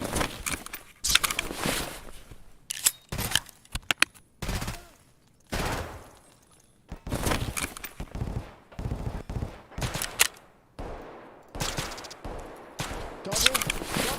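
Bursts of automatic fire from an RPK machine gun with a drum magazine in a shooter video game, loud and close, coming in repeated clusters separated by short pauses, with faint footsteps between bursts.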